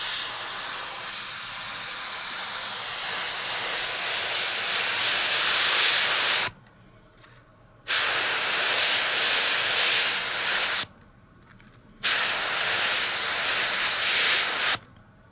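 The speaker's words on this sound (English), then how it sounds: "I'll just spray the insides here." Loud, steady hiss of gloss white paint sprayed from a nozzle onto a King Tiger tank model, held for several seconds at a time and cut by two brief pauses.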